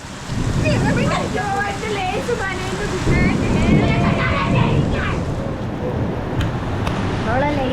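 Heavy rain pours down steadily and close by, a dense broadband wash that holds through the whole stretch while voices talk over it.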